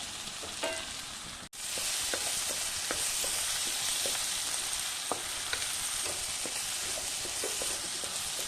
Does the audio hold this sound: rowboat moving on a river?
no